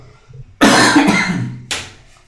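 A person coughs close up in a quick run of harsh bursts, two joined hacks followed by a shorter third, in an otherwise quiet room.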